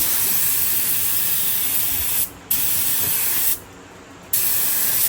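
A spray gun hisses steadily while painting a car at home with Eastwood Boulevard Black, loud and close, cutting out briefly three times between passes with no talk.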